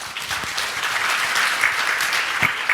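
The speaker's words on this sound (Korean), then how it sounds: "다시 한번 큰 박수 부탁드리겠습니다." Dense, sustained applause from a conference audience at a tech summit in Seoul, a loud continuous wash of many hands clapping that fills the room without a break.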